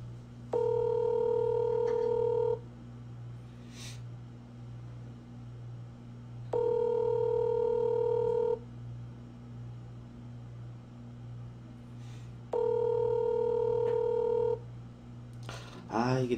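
A phone line rings out while the caller waits for a friend to answer: three steady two-second ringback tones separated by long pauses, over a constant low hum.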